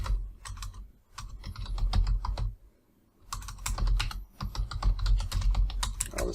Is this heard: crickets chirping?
no